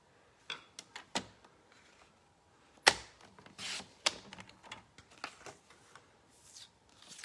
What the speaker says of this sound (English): we're going to cut the 6 by 6 DSP into 2 3/8.